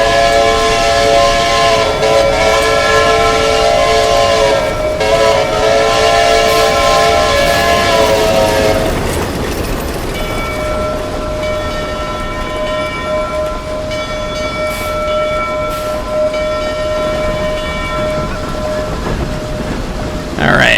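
A diesel locomotive's horn blares loud and close in long, chord-like blasts. A steadier single horn tone follows over the rumble and rattle of the train rolling down the railroad.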